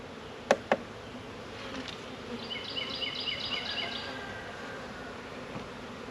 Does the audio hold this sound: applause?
no